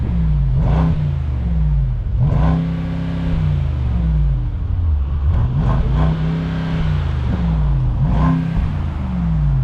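The V8 of a new Mercedes-Maybach SL 680 in sport mode revs repeatedly from inside the cabin, a deep loud engine note rising and falling in several surges with a steady burbling rumble between them.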